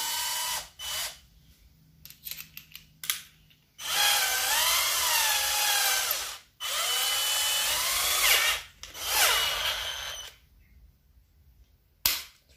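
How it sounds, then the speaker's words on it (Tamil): A Keelat cordless electric drill with a star bit runs at full speed, driving a screw into a metal piece. Several loud, whining bursts rise and fall in pitch, separated by short pauses and a few clicks. "மெட்டல் பீஸில் நம்ம இப்போ வந்து ஸ்க்ரூ ஏற்றி பார்ப்போம் எப்படி இறங்குது அப்படின்னு."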